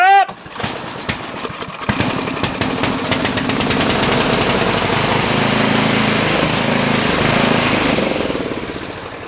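Small engine of a Columbia blower cold cranked, starting with a sharp metallic clank and then a loud, rapid, rough chattering that runs for several seconds before tapering off, with no talking.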